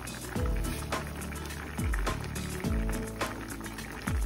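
Broth boiling in a pot for steamed fish, a loud bubbling, gurgling liquid roll close by, with repeated descending glugging swells every second or so.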